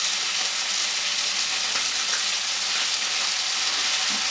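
Potatoes fry and sear in a hot pan after being turned to brown the other side, a steady close sizzle with faint crackles running unbroken and fairly loud throughout.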